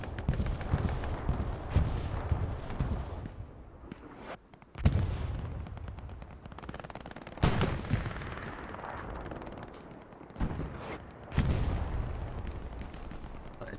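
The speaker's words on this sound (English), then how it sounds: "The Blood God will die to another bombing run." Gunfire and bombing-run blasts from tank and artillery combat in the Hell Let Loose war game, with repeated loud booming impacts at irregular intervals over a continuous rumbling battlefield background.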